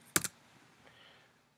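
A computer mouse gives a quick double click, two sharp close taps in rapid succession, followed by faint room noise fading to near silence, with no speech.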